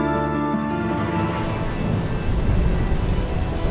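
Steady heavy rain and rumbling thunder during a mountain trek, a dense continuous wash of close rainfall with deep rolling thunder underneath, starting over a fading musical tone and running without voices.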